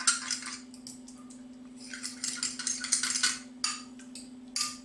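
Lemon, chili pepper, lemon zest, salt and onion being mixed for an Ethiopian potato salad, giving repeated close clinks and scrapes of utensils against a bowl in uneven bursts over a steady low hum, with no talking.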